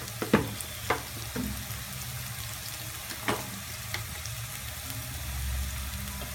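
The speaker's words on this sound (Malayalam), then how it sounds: "ഇതെല്ലാം ചേർത്ത് നന്നായി ഇതിൻ്റെ പച്ചമണം മാറുന്ന വരെ ഇളക്കാം." Ground spices, homemade garam masala and coriander powder are stirred in a frying pan for a fried chicken curry, giving a low steady sizzle broken by a few scraping knocks of the spoon against the pan, close by and without talk.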